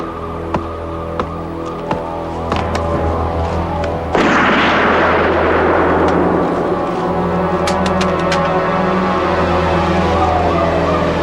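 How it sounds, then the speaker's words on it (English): Gunshots ring out in a 1980s TV crime drama: several sharp, spaced shots at first, then a heavy booming blast that leaves a long, loud, noisy roar. "Shoot! He's got a gun!"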